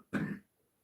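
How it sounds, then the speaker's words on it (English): One short, harsh cough comes from a man with a chest infection, close to the microphone, followed by quiet. "Excuse my coughing, guys."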